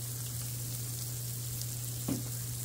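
Meatloaf and potatoes frying in oil on a Blackstone griddle give a steady, even sizzle with a low constant hum underneath and one brief louder spatter near the end.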